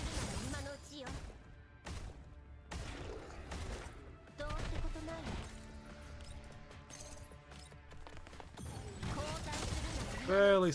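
Gunfire from the video game Girls' Frontline 2 Exilium, a run of sharp shots and impacts mixed with music and game effects, fairly loud and steady throughout the scene.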